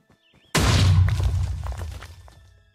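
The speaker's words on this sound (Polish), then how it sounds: "Boom, TNT!" A TNT explosion in the Minecraft Bed Wars game erupts suddenly as one loud, close blast with a crashing burst that fades over about two seconds.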